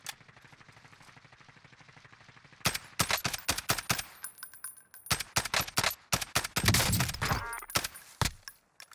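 Gunfire in the shooter game Warzone, with sniper shots and a SCAR rifle: a quiet lead-in, then loud, close bursts of rapid automatic fire and single cracks for about six seconds, with no talking.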